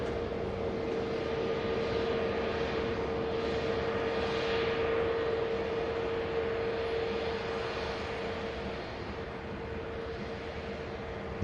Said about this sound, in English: the beautiful KLM A321 Neo heading back to Amsterdam Schiphol